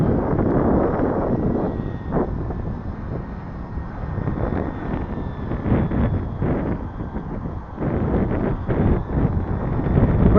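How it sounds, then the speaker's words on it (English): Gusty wind buffets the microphone during a windy-weather flight of an E-flite UMX The Beast RC plane, coming as uneven, rumbling surges with a faint motor whine underneath and no speech. "Wind blows it back pretty good."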